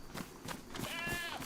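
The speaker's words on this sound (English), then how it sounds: "It's a goat though, so we might be able to do it silently." A goat in the DayZ video game bleats once, a wavering nasal cry heard close over a steady outdoor ambience.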